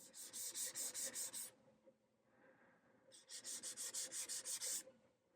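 Abrasive grit rubbed back and forth along an acoustic guitar neck to remove the gloss, a faint rhythmic swishing in two runs of about eight even strokes each, separated by a short pause.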